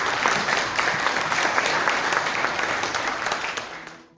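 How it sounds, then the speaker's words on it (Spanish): A church congregation at a Christmas Nativity service applauds for around four seconds, a full, steady patter of many hands that fades out at the end. "¿Cuánto le damos un aplauso al Señor por lo que ha hecho?"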